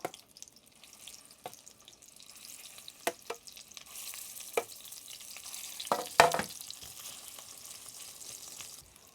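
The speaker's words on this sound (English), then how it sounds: "And then fry off batch number 2." Meatballs fry quietly in a pan, a low steady sizzle with scattered crackles and pops, growing a little louder midway, with no one speaking.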